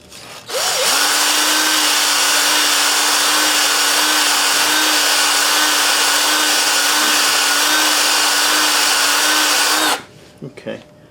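Ball hone spinning on a drill inside the cylinder of a rare Briggs NR6 engine, a steady loud whirring grind for about nine seconds before stopping, followed by faint clatter.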